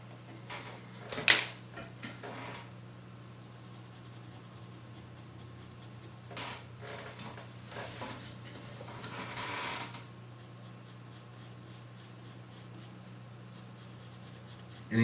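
Pencil scratching on paper while drawing, soft, close strokes in short bursts with quiet gaps, faint against a low room hum.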